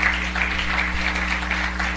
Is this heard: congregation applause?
yes